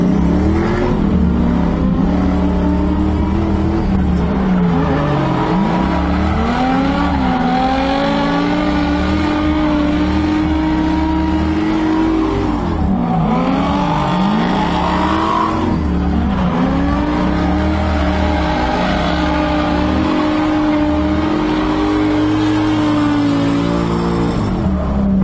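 A drift car engine revs hard and loud on track without a pause, pitch climbing and falling as the throttle rises and drops, with a steady roar between the revs.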